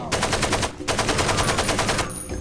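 A PK machine gun in Far Cry 2 fires two close, loud bursts of rapid, evenly spaced shots, split by a short pause before a trailing fade, with no talk.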